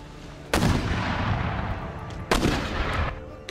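Cannon or gun volleys from gunners in the Empire: Total War video game, two loud booming bursts with long rumbling decay, the second about two seconds after the first.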